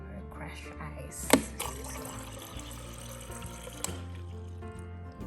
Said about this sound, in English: You press this one here, it's water coming out.